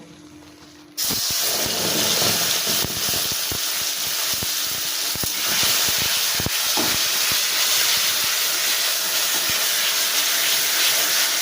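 Flat bean paste hitting hot oil in a pan: quiet at first, then a sudden loud burst of close sizzling hiss that carries on steadily with scattered crackles and pops.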